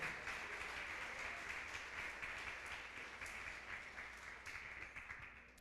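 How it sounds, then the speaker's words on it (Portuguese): A church congregation applauds during a Portuguese-language sermon, a steady dense wash of many hands clapping that holds evenly and fades slightly toward the end, with no clear voices. "Aplaude a palavra do Senhor Jesus."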